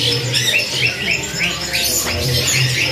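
Caged birds call at a market bird kiosk selling zebra doves and canaries, with repeated chirps and squawks over a steady background hum.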